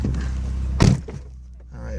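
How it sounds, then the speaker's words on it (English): A 1998 BMW E36 316i M3 Sport has its driver's door pulled shut from inside. One short solid thunk lands near the middle, framed by a low cabin hum and brief murmuring voices. "Let me close my door all the way."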